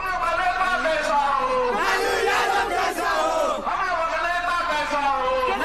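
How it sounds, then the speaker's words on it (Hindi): Crowd at a BJP election rally in Bihar loudly shouting political slogans, many voices chanting together in sustained waves with rising and falling pitch, continuous and close throughout. "पब्लिक के बीच से मुर्दाबाद के शोर सुनाई देते हैं"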